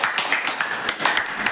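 Hands clapping at a lively family gathering, a quick run of sharp, fairly even claps close by, steady in rhythm with no voices over them.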